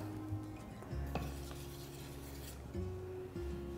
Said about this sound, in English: So keep on stirring it until you get a nice, completely consistent product.